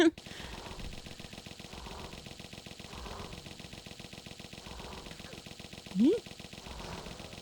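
Uzi fire in the Tomb Raider video game rattles in a fast, steady stream of rapid shots that runs almost the whole way through.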